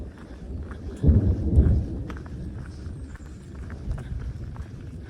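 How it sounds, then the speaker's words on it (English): Low, distant rumble of thunder swelling briefly then fading, with soft rain patter and rustling outdoors around it on a ridge in Virginia. "There's thunder on both sides of the ridge."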